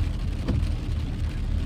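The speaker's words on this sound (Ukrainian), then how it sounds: "у нас дощ, у нас все ще дощ" Steady autumn rain falls outdoors as a constant dense hiss with a low rumble beneath, unbroken and moderately loud, with no voices.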